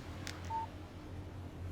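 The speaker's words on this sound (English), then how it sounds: "Text message from Barry." A phone text message alert sounds in the video game Alan Wake Remastered: a brief, faint electronic beep over a low, steady background hum.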